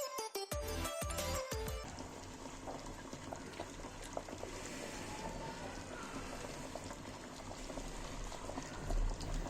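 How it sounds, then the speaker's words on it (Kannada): Chicken and lima bean curry (saaru) bubbles steadily in a pot, a dense, even simmering hiss after a few brief clinks at the start, with no voices. "ಸಾರು ಇವಾಗ ಒಂದು ಕುದಿ ಬಂದಿದೆ."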